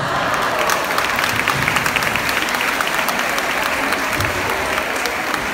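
Loud, dense applause from a large crowd at an outdoor Mother's Day festival with dance performances, continuous and even for several seconds with no speech over it.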